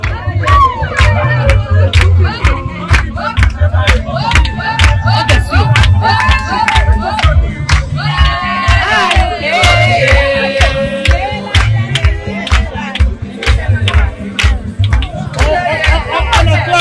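Crowd cheering and hailing at a customary wedding in Gabon: dense, loud massed voices with shouts rising and falling steadily, rhythmic claps or beats running throughout, with a brief swell of higher ululating cries in the middle.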